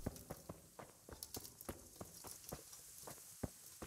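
Horse hooves clip-clop at a steady walking pace in the medieval video game Kingdom Come: Deliverance, giving a quiet, even series of hoof strikes with no talking.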